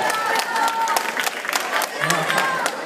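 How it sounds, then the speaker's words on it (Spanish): Crowd applause at an event, a lively patter of clapping with scattered sharp hand claps and a few voices cheering underneath. "un aplauso para el chico que tiene la Pokébola"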